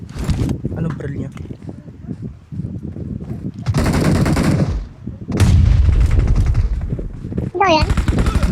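Gunfire from PUBG gameplay comes in long, loud automatic bursts, near and heavy, while players talk over and between the shooting.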